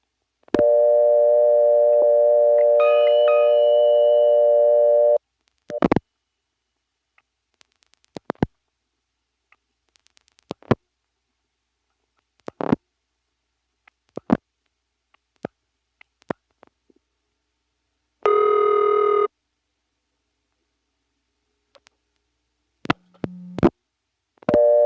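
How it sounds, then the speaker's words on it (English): Ringback tone on a 1977 step-by-step telephone exchange in Rock Hill, South Carolina, a local call dialed from a payphone with a dime: two long buzzing rings separated by silence, with scattered clicks of selector switches between them, no talk. "Here's a ringing number in this 366 step."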